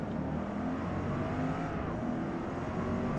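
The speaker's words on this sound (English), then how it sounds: "So I'm shifting up through the gears here." A race car in Forza Motorsport accelerates hard, its engine note climbing and roaring as it shifts up through the gears, loud and continuous with a whirring drivetrain, no talking heard.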